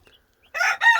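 A rooster in a coop lets out a loud, close crow in two quick strained bursts after a brief near-silent moment.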